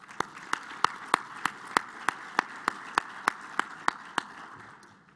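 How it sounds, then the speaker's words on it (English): Audience applause at an economic forecast breakfast for speakers and sponsors, a busy wash of clapping with one sharp, evenly spaced clap standing out close by, about three per second. "Let's make sure we give them a big round of applause as well"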